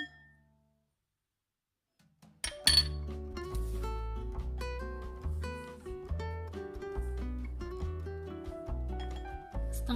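A spoon clinks against a bowl while mixing dry ingredients of flour, sugar and salt for a steamed sponge cake. After a brief silence come repeated, close, ringing clinks in an uneven rhythm, with no talking.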